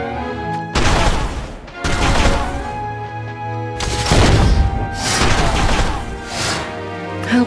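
Gunfire from the video game War of the Visions Final Fantasy Brave Exvius: loud, dense volleys of shots in two long bursts separated by a brief lull, ringing over a steady musical backdrop.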